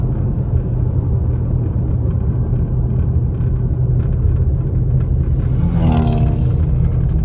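A car engine running rough drones under constant road rumble while driving in winter storm weather near Big Bear, loud and continuous, with a brief rising whine toward the end.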